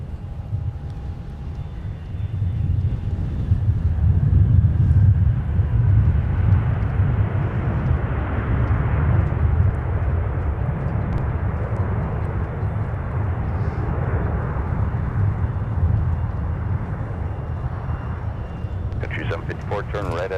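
Sun Country airliner arriving at MSP airport in the Twin Cities, a steady broad jet roar holding at moderate loudness throughout, with air traffic radio chatter heard under it.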